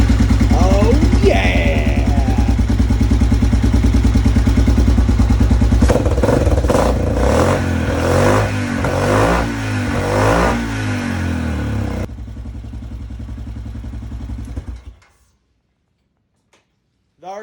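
A 2007 Yamaha Grizzly 700 ATV engine cranks with ticking clatter, fires and revs to a rough idle up close, a voice briefly exclaiming, before it shuts off into near silence.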